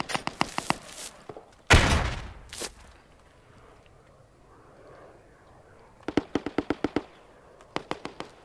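Gunfire in the Squad military shooter game: rapid bursts of sharp shots near the start, a loud heavy blast around two seconds, then more quick bursts of shots later, with a quiet rumble between.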